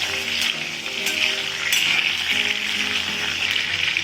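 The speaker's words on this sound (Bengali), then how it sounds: "লবণ আর হলুদ দিয়ে দেওয়ার পরে পটলগুলি হালকা লাল লাল করে ভেজে নেব।" Pointed gourd pieces frying in oil with salt and turmeric, browning lightly, give a steady close sizzle with soft stirring scrapes throughout, alone without talk.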